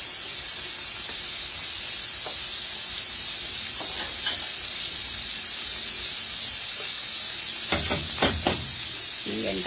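Ground beef sizzling and frying in oil for giniling, a steady bright hiss throughout with a few stirring clinks and scrapes toward the end; no talking.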